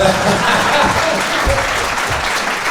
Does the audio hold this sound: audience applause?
yes